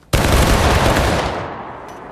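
A musket volley fired by a line of soldiers in the Civil War game War of Rights crashes in as one loud, sudden blast and then rolls away in a fading echo.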